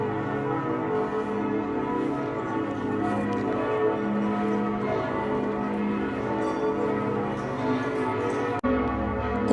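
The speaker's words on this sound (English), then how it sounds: "The bells!" Church bells of the Benedictine Abbey of St. Mang in Füssen peal continuously, a dense, overlapping ringing that fills the air evenly at moderate distance, with no voices over it.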